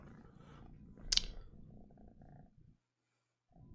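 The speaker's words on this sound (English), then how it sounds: "Do I hear a cat? Yeah, she's on my lap over here." A cat lying on someone's lap purrs in a soft, steady low rumble for about two and a half seconds, with one sharp click partway through, then it goes quiet.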